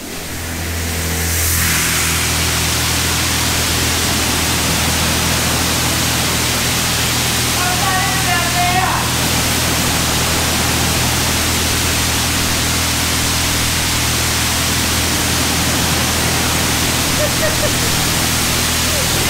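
Touchless car wash jets blasting water onto a 2018 Polaris Razor, a loud, steady roaring hiss that holds without a break after a short start.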